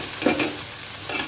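Washed pilau rice stir-fries in hot oil in a pan for Bengali hilsa fish biryani, giving a soft continuous sizzle with a brief scrape of stirring.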